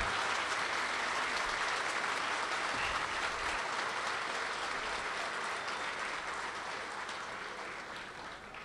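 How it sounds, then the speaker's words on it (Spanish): A crowd at a municipal event applauds municipal employees, a dense, steady wash of clapping from many hands that holds loud throughout and only slightly eases toward the end. "le demos un fuerte aplauso a todos los empleados municipales"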